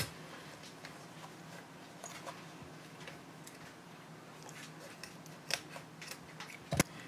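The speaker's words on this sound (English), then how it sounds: "After basting, you can go ahead and clip these zippers even with the sides" Scissors trimming the ends of zippers level with the sides of a fabric zipper pocket, a few faint, quiet snips and small clicks in a still room, with one sharper cut near the end.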